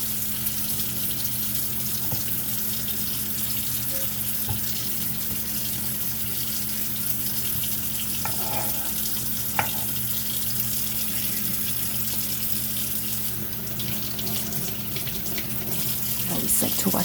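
Tap water runs steadily into a sink while meat is rinsed for crockpot chili, a constant close splashing hiss throughout with a few faint clinks and bumps as the meat is handled.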